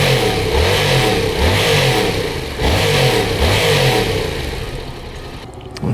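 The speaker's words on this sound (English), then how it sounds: "Yamaha MT-07. We're out here at West Coast Motorcycles doing a test ride" A Yamaha MT-07 motorcycle revs on a test ride at West Coast Motorcycles: a loud, close engine note that climbs in pitch again and again in quick rising sweeps, then eases off toward the end.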